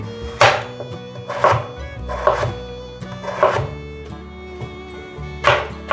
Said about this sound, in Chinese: 把马铃薯切片